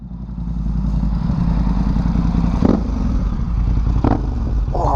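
A Kawasaki H2 motorcycle engine runs close by at a loud, steady idle with a rough, pulsing mechanical rumble and a couple of brief clatters, no voices.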